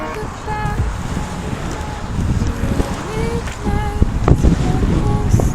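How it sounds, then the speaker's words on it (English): Gusty wind buffets the microphone over a low boat rumble and water, with scattered clunks and creaks throughout. "the wind's catching us already"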